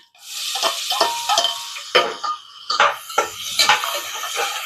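Onions fry in hot oil in a pan for a chicken kuzhambu, with bursts of sizzling and spatula scrapes against the metal in an uneven rhythm, close and fairly loud, with no talking.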